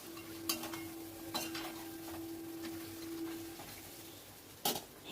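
A few sharp utensil scrapes and clinks as meat is stirred in a covered pan over medium-low flame, separated by near-quiet stretches with a faint steady hum.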